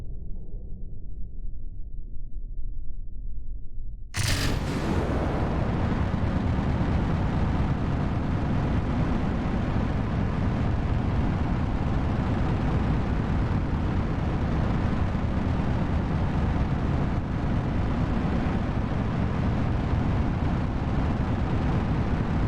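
Rocket engines of a scaled New Glenn replica ignite in Kerbal Space Program, a sudden loud blast after a low hum, then a steady, roaring, broadband rumble that continues unbroken.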